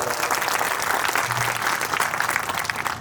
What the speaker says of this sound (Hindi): एक बार अपने जोरदार ताली से स्वागत करिए।